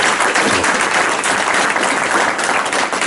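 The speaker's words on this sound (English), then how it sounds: "Let's give her a huge round of applause." An audience gives a woman a huge round of applause at a gathering, dense steady clapping that carries on loud and unbroken throughout.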